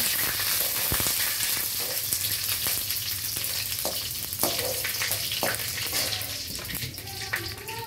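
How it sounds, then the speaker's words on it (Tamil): Curry leaves fry on medium heat in a Tamil home kitchen, giving a continuous bright sizzle with scattered crackles and pops and occasional stirring clatter, close and loud throughout. "கருவேப்பிலை ஒரு கொத்து, அடுப்பை நல்லா மீடியம் சிம்மில் வச்சுக்கோங்க."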